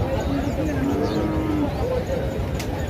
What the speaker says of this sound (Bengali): রাজশাহীর সিটি হাটের বলদ গরুগুলো দেখে আসি।